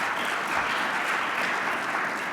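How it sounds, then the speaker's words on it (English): An audience applauds the panelists on stage at a training talk, a steady, dense round of clapping from start to finish. "I think these guys deserve a round of applause."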